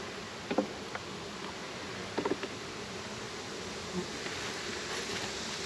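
Honey bees buzz faintly and steadily around a hive box as a five-frame nuc is moved into a ten-frame box, with scattered soft knocks and rustles of frames being handled.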